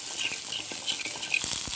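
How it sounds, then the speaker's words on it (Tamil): Chopped onions sizzle and crackle in hot oil with soft scraping stirs, close and continuous, no voices. "சேர்த்து கொஞ்சமாக வதக்கிக்கலாம்"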